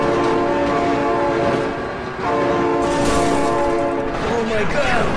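A train horn blows loud and sustained as a train rushes past, with heavy rumbling noise throughout and a brief dip in the middle.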